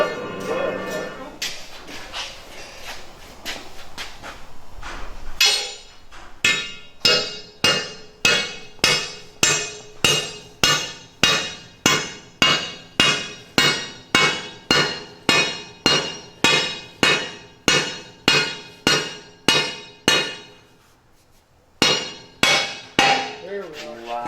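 Anchors being hammered into a concrete floor for a BendPak car lift, with a long run of loud, evenly spaced metallic strikes, a brief pause, then a few more blows.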